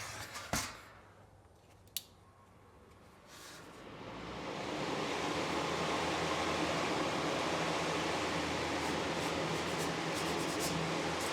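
An HG Power 14-inch louvered exhaust fan for garage attic ventilation, fitted with a screen, clicks on after a couple of sharp switch snaps, then spins up into a loud, steady broadband whoosh of rushing air that holds to the end.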